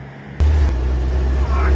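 A 1945 Bedford QLD WW2 army lorry engine turns over and catches abruptly, then settles into a loud, deep, steady idle rumble close by.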